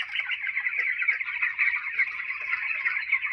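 Poultry chicks, about 16 to 24 days old on a farm, peep continuously in a dense, high-pitched chorus of overlapping chirps, close and fairly loud throughout.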